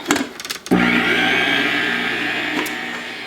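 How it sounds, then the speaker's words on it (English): Electric stand mixer kneading garlic bread dough, starting after a few clattery bumps and then whirring in a steady, loud motor hum that holds evenly to the end. "then turn it on your mixer again"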